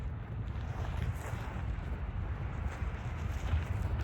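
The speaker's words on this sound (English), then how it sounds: "It's breezy." Steady breezy wind buffets the microphone beside a cold river on a 35-degree day, a continuous low rumble with no break throughout.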